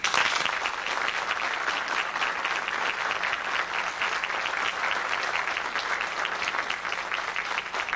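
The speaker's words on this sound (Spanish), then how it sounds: "para quienes pido un gran aplauso" An audience at an international UFO congress presentation applauds a newly elected mayor, sustained dense clapping at steady volume from start to finish, with no talking over it.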